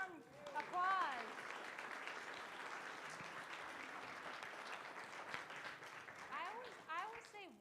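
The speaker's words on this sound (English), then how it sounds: "Warm applause." Warm audience applause at an art show, a dense steady wash of many hands clapping that runs throughout, with brief speech heard at the start and end.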